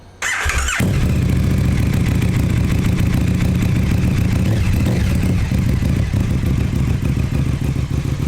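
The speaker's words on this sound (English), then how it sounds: "And I know I shouldn't really start the bike" A 2020 KTM Super Duke GT motorcycle starts with a short cranking burst, then settles into a loud, close, steady idle with a lumpy mechanical clatter that runs throughout.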